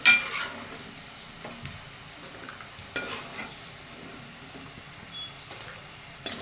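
Potato pieces fry in hot oil in a home kitchen, giving a soft, faint sizzle broken by scattered clinks and scrapes of a utensil against the pan as they are lifted out.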